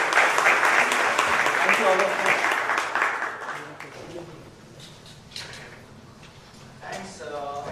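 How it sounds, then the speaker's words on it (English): Applause for a panel at a budget meeting, clapping loudest at the start and thinning out over a few seconds as someone speaks briefly over the tail of it. "Please have a round of applause for the"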